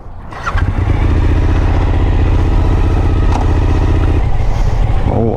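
A motorbike engine starts with a brief crank and settles into a loud, close, steady rumbling idle for several seconds, with a short rattle and scrape near the end.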